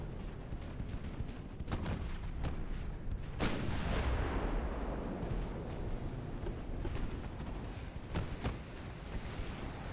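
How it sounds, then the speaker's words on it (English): A warship's ammunition detonating in the naval battle game Ultimate Admiral: Dreadnoughts, with a sharp blast and a rolling booming swell amid scattered distant gunfire thuds, fairly faint and with no talk. "ammo detonation"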